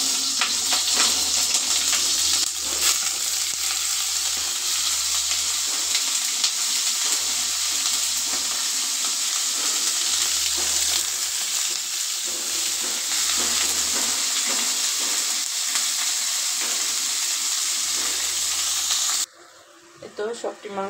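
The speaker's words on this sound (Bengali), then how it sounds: "সবটি মাংস আমি দিয়ে দিছি একসাথে, সবটি একসাথে ভাজা নিব" Chicken pieces rubbed with salt and turmeric sizzle steadily in a pan, a continuous bright frying hiss with occasional stirring, loud and close, cutting off abruptly near the end; a low hum pulses underneath.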